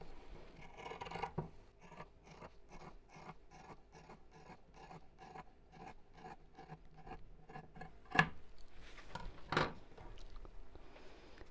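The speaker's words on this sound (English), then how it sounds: "I'm going to cut through all four pieces at the same time." Scissors snip through four stacked layers of fabric, two outer pieces and two lining pieces, for a circle pouch, giving a steady run of close, evenly spaced crunchy cuts followed by a couple of sharper clicks.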